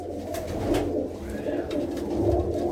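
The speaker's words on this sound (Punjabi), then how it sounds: "ਇਹਦੇ ਵਿੱਚ ਸਾਰੀਆਂ ਹੀ ਕਬੂਤਰੀਆਂ ਐ" Female pigeons coo softly in low, throaty bursts, several birds close by in a coop, repeating over a quiet background.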